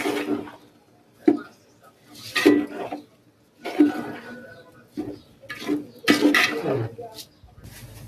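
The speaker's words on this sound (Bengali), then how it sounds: "কষাই নিতেছি চালটা।" Rice is stir-fried in a pot after chicken in a home kitchen: a spoon scrapes and clatters in short, separate bursts with quiet gaps between them.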